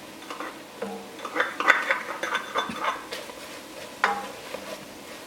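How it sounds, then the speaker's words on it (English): Garlic tossed into a pot of softening vegetables for Hawaiian-style chili, giving a soft sizzle with clinks and scrapes of a spoon stirring against the pot, close and moderately loud with no talking. "We're going to add the garlic now."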